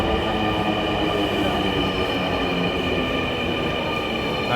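Steady rumble and hum of a Dhaka metro train in motion between Uttara and Agargaon, heard from inside a carriage, with a constant whine and no talk.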